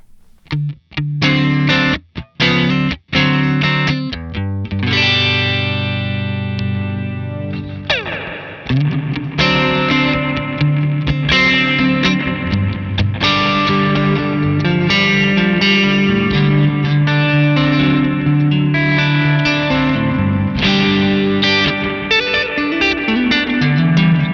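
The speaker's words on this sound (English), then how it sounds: "we'll check out the relationship between the pre-delay and the reverb" Electric guitar notes ring out through a heavy reverb pedal with pre-delay, a Wonderful Audio Technology Ancient Echos, a few sharp plucked hits at first, then sustained distorted chords washing into a long, dense ambient tail.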